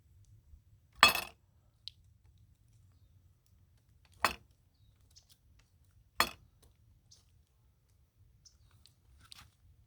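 Cheese being shaved onto a hot Blackstone griddle: a few sharp, brief scraping bursts spaced seconds apart over a faint low sizzle, close and fairly quiet, with no talking.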